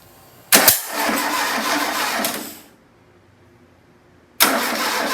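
A freshly built VW 2165cc Type 1 high-performance engine cranks and catches for its first start, running loud and rough for about two seconds before dying, then bursts to life again after a short silence.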